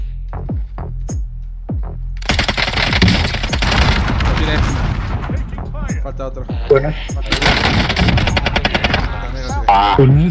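Sharp single gunshots in Call of Duty: Modern Warfare Warzone give way to long bursts of rapid automatic fire, loud and close, pausing briefly before another volley.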